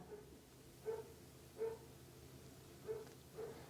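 A dog barks four times at a distance, single muffled woofs spaced irregularly over a quiet background.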